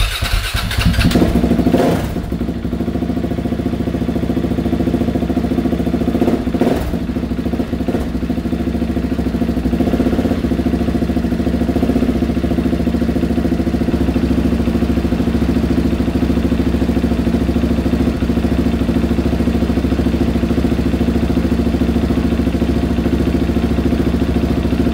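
A KTM 690 motorcycle engine cranks and catches, then settles into a steady, loud single-cylinder idle close by that runs unbroken for the rest of the stretch.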